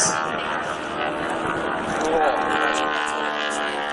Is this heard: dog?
no